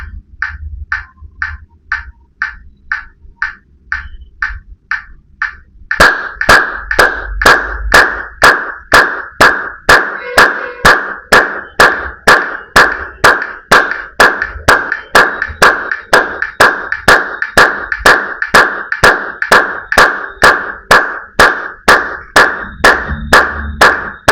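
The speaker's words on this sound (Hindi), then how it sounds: "इस बीट के साथ आपको मैच करना है ताली को" Hand claps keep time with a steady beat, sparse and light at first, then sharp, loud claps at a doubled tempo in an even, unbroken rhythm.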